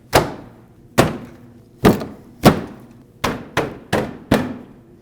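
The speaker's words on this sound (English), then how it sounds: "install the front fascia, and it just has these tabs that clip in and will lock as you push it" Front fascia tabs clipping into place on a 2009-2010 Dodge Ram 1500 bumper: eight sharp, loud plastic thunks in an uneven rhythm, close up and with no talking.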